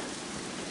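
Heavy rain pours steadily onto an outdoor deck at night, a dense, even hiss with no pauses, fairly close and alone without voices.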